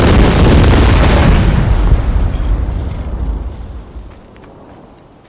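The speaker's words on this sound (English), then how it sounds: "A cluster ATACMS missile nears, and in seconds, dozens of bomblets unleash relentless destruction." Cluster bomblets from an ATACMS missile explode along a street in the Teardown video game: a dense, loud roar of overlapping blasts and rumble that holds steady for about two seconds, then slowly thins and fades into scattered debris crackle.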